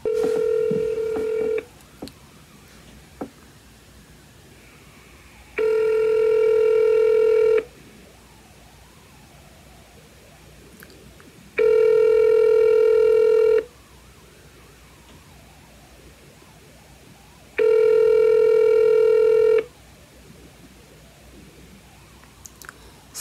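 A telephone call goes unanswered: a short burst of dialing tones, then three long evenly spaced ringback tones, each about two seconds, separated by quiet gaps, with no one speaking.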